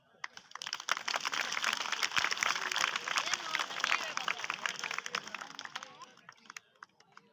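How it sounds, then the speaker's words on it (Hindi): An audience claps for a man at a street or stage performance of tricks, a dense run of claps lasting several seconds before fading to a few scattered ones, with voices underneath. "सर के लिए तालियां बजाओ"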